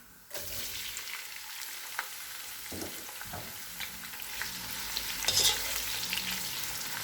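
Sliced onions fry in a pan of oil for chicken biryani, giving a continuous soft sizzle with occasional stirring scrapes and a faint clink near the end, and no voices.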